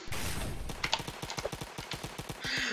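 Rapid bursts of gunfire spray a horde of zombies in a Roblox zombie-attack game, a dense run of sharp shots in quick succession, loud and close, with a brief higher hiss near the end.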